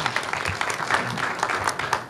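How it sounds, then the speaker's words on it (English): An audience at a town hall meeting claps for city staff, a brief burst of crowded, lively clapping that is fairly loud and close, with individual hand claps standing out in the mix. "you can clap for that"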